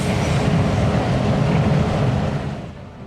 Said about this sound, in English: Rotary excavators load black fuel directly into freight trains.